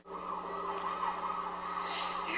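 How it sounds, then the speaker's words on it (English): Movie trailer audio plays through laptop speakers as a steady, wailing siren-like sound, fairly quiet and continuous with no voices. "I'm going to try out a 1080p MPEG-4 high-profile trailer so you can hear what that sounds like."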